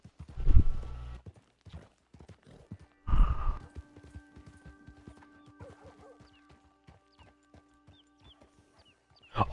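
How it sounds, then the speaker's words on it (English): A horse in a video game clops and snorts nearby, a few separate loud bursts of hoof and breath sounds with quieter scattered clicks between them, no talk. "I actually really like this horse."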